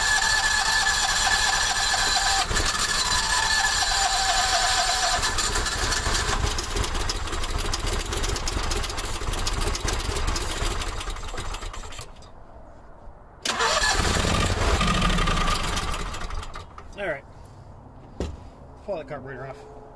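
A Howard Price Maverick 620 mower engine with a gummed-up carburetor cranks, catches and runs loud and close with a rough, uneven roar, then cuts out abruptly, restarts and sputters; someone talks intermittently over it.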